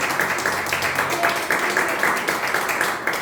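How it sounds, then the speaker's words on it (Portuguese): A church congregation claps steadily and rhythmically during a family worship service, loud and sustained across the room. "Aplauda o Senhor Jesus Cristo."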